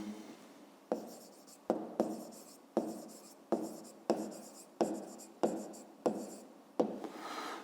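A pen scratches across paper in short repeated bursts, about ten distinct strokes with brief pauses between, written by hand while solving a fifth-grade math exercise; close and fairly quiet, with no talk.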